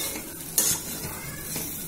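Vermicelli sizzles steadily as it fries in oil in a pan, with one sharp scrape or clink of a utensil while it is stirred, heard close up and with no talking.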